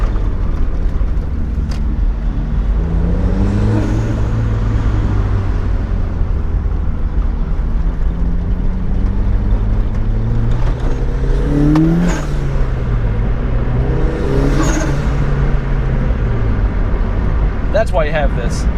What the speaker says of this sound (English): the turbo sounds, which we're going to listen to